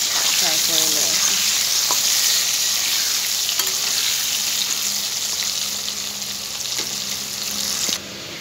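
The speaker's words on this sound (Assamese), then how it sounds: "এতিয়া মই ভালদৰে আলুখিনি ফ্ৰাই কৰি লম অলপ ৰঙচুৱাকৈ ফ্ৰাই কৰি লম" Potatoes fry in hot oil in a pan while cooking an Assamese-style jackfruit dish, giving off a loud, dense, continuous sizzle up close. Occasional stirring clinks come through before the sizzle drops slightly near the end.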